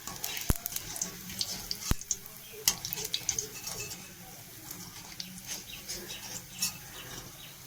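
Food frying crisply in a pan, a close crackling sizzle broken by sharp clicks and scraping stirs, fairly quiet overall.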